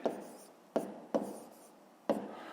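A pen scratches on paper as a maths answer is written out by hand, four short, distinct scribbling strokes with brief pauses between them and no talking.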